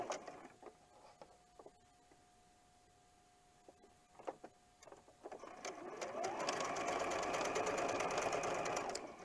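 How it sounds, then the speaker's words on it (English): A sewing machine stitches corner to corner across a scrappy quilt block. A few quiet clicks and taps come first, then the motor whirs up and runs steadily and loudly until the end. "I'm just going to eyeball it and stitch from corner to corner"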